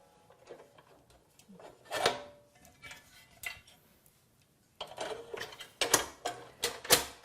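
Plates being swapped on a stainless steel Cuisinart GR-300WS Griddler Elite: a series of close clicks, clacks and metallic knocks, irregular and fairly quiet, with a busier run of sharp snaps near the end.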